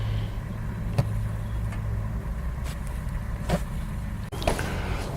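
A Mercedes 450SL, freshly fitted with a new fuel system, runs and drives roughly, its low engine drone and road noise steady inside the car, broken by a few clicks and knocks.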